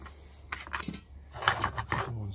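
Metal utensil scraping and clinking in a frying pan while stirring Danish stegt flæsk, crispy fried pork belly, a few short scrapes and knocks at close range with faint speech around it.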